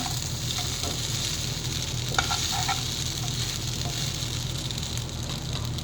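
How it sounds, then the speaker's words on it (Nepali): Sabudana khichdi sizzling and frying in a pan while it is stirred, a steady loud crackling hiss with a few clinks of the spoon partway through and no talk. "यतिको भएपछि चाहिँ फेरि चलाउने।"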